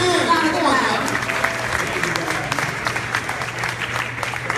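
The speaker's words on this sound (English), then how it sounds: "give them a round of applause" Crowd applause for award honorees at an NYC Black Pride event, sustained dense clapping with voices and cheering mixed in throughout.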